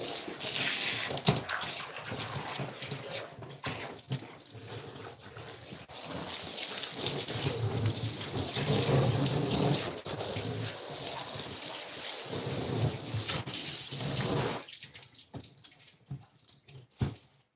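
Water sprays steadily from a hose to rinse out a skinned squirrel being prepared for taxidermy, a continuous hissing wash that runs about fifteen seconds before cutting off, leaving a few drips and faint handling sounds.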